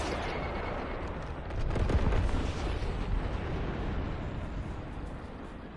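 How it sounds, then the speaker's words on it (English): A smoke screen artillery bombardment in a video game: a steady, dense rumble of distant blasts that swells briefly and keeps rolling without a break. "Strike location. Smoke screen bombardment ready."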